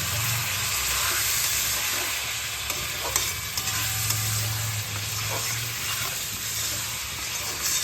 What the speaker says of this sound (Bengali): শুকনো মশলাগুলো জ্বলে না যায় সেই জন্য অল্প জল দিয়ে আমি মশলাগুলোকে খুব ভালোভাবে কষিয়ে নেব